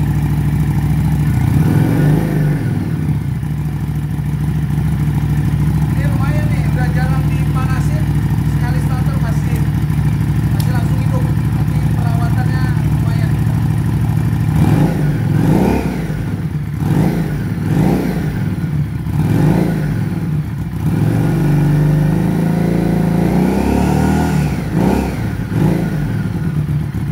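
A nearby Harley-Davidson Street 500 motorcycle with a replaced exhaust idles loudly, then several quick throttle blips rev it up and down in bursts.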